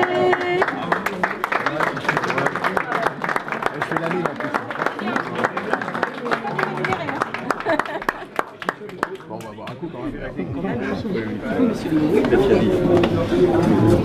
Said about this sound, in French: On peut applaudir. Bravo, applaudissez.